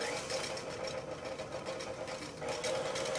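An electric mixer beats meringue for a maple crêpe soufflé at reduced speed, giving a steady whirring, buzzing hum that stays up close throughout, with faint talking underneath.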